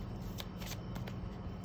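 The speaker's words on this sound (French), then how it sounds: "on va mélanger les cartes." A deck of playing cards shuffled during a two-player tabletop game: one quick, crisp riffling burst, close and fairly quiet, with no voices.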